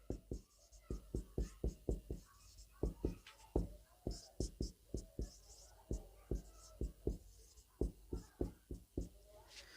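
Handwriting strokes of letters being written, a steady series of short, crisp scratchy taps with a quick irregular rhythm, close up and fairly faint, with no talking over them.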